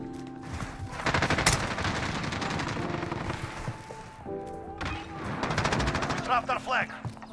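Rapid bursts of gunfire from an SKS rifle in Call of Duty Warzone, with repeated loud shots and short pauses, plus distant firing and other game sounds in the background; someone talks over parts of it.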